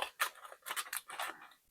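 Scissors snip through excess bracelet cord in a quick series of five or six crisp, close cuts, each a short bright click with brief gaps between.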